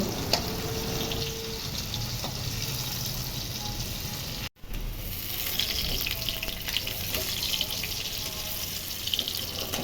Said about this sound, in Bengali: কড়াইয়ে পরিমাণ মতো সর্ষের তেল দিয়ে গরম হলে এক এক করে মাখানো কাঁকরোল দিয়ে দিচ্ছি।